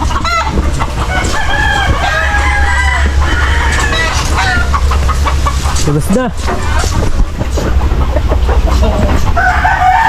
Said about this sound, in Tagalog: Update muna tayo dito sa mga manok.